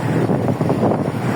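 Wind rushes steadily over a microphone on a moving boat, a loud, continuous buffeting roar with faint churning underneath.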